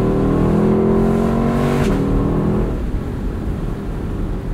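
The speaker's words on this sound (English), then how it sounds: "But when you're really revving out," A 2021 Lexus LC 500 Convertible engine revs hard and loud, its tone climbing before a brief break around a shift, then settling into a lower, steady drone.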